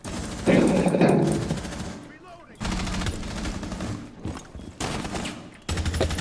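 Rapid automatic gunfire from the tactical shooter Rainbow Six Siege, loud bursts of shots with brief gaps, layered with game sound effects and occasional voice lines.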